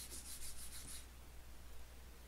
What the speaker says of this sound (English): And sanding it, getting it ready.